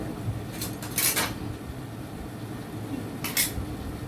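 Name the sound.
small spoon scraping in a dish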